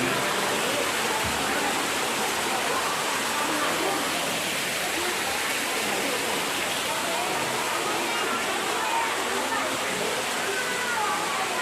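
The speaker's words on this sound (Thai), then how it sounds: "น้ำตกจำลอง" An artificial waterfall at a zoo gives a constant, even rush of splashing water, steady and fairly close, filling the scene without pause.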